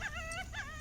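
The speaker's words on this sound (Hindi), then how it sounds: "वो वहाँ अलग कुत्ता रो रहा है।" A dog outdoors on a monsoon hillside near Hyderabad gives two thin, wavering whimpering howls in quick succession, moderately close and plaintive, with no talk over them.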